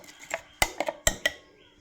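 A spoon stirs a buttermilk mixture in a vessel, making a handful of sharp, close metallic clinks in an uneven rhythm against the sides, with quiet pauses between strikes.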